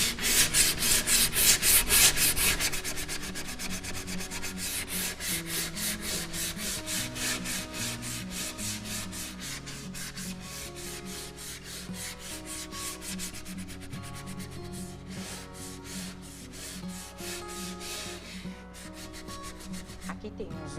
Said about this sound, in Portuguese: Agora eu vou lixar aqui.